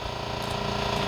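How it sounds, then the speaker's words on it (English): A boat's water maker running: a steady mechanical hum and rattle, loud and close, constant throughout with no voices. "Pardon the noise, I'm running the water maker"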